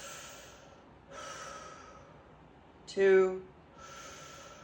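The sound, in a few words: breaths taken through the mouth in a breathing exercise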